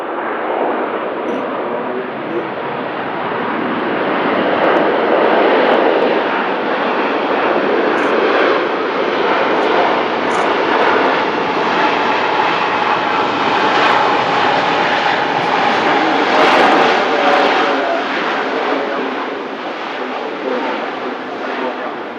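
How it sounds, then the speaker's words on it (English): Airliner taxiing along a taxiway at Manchester Airport, a steady broadband engine roar holding close and loud throughout, with faint voices underneath. "the aircraft will taxi back along the taxiway close to the REB all the way off"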